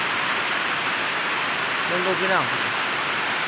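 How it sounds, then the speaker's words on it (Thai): Steady rain falls in the rice-farming season, a constant hiss of drops on surfaces throughout, with a person speaking briefly over it. "ฝนก็ต้องตกลงมาแหละเนาะตามฤดูกาล"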